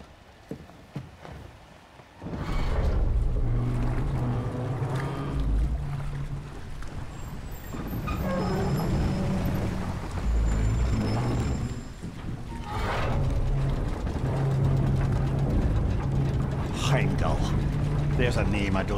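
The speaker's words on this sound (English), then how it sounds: "nothing quite like a dwarven train ride." A rumbling, clattering dwarven rail cart ride in God of War Ragnarok, starting after a quiet moment and running as a loud continuous mechanical rattle and rumble, with characters talking over it.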